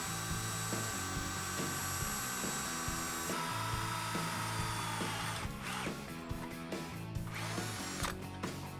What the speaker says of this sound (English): All we want to do is drill through that mount and then install that bolt.